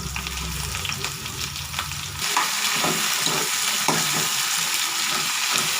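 Ginger, onions and tomatoes sautéing in a pan give a close, continuous sizzle, with a lower rumble at first, then brighter frying hiss and repeated scraping stirs.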